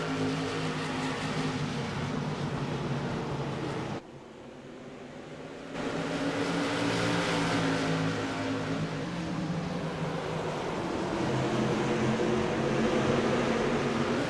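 Race cars accelerate hard on a short oval bullring track, a dense, steady engine roar that drops briefly in the middle before surging back loud and sustained.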